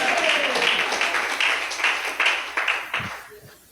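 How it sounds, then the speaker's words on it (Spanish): A church congregation claps together during a Spanish-language sermon, a dense, steady patter of many hands that keeps going at close range for several seconds before tapering off near the end. "Aplauda a Dios con todo el alma"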